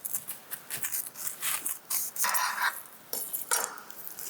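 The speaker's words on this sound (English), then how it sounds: "So what you're going to do with the pineapple is you're going to cut off the top." A knife saws through the tough top of a whole pineapple, a close, rough rasping and crunching that rises and falls in strokes.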